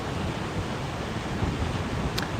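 Stormy sea surf at Sofia beach in Anapa, a dense, loud, continuous roar of breaking waves mixed with wind buffeting the microphone, steady throughout with no voices.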